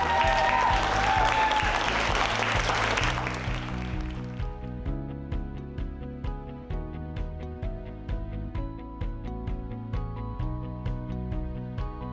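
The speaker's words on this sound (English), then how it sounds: "a round of applause, please, one more time for Susan Hirano" Loud audience applause swells at first, then settles into steady rhythmic clapping in unison.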